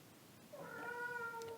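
A needy house cat meows in a drawn-out, rising call that starts about halfway through, close and fairly clear above a quiet indoor room.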